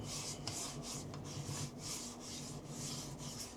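A Florida live oak wood bowl is wet sanded by hand, giving a steady rhythmic rubbing and rasping sound in repeated strokes about every half second, close and fairly quiet, with no talking.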